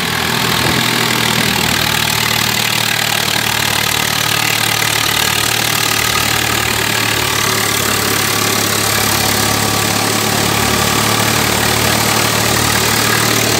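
Swaraj 744 tractor engine driving a thresher at a steady 1400 RPM outdoors, a loud continuous mid-to-low drone with even mechanical clatter and broadband whoosh throughout, no voices.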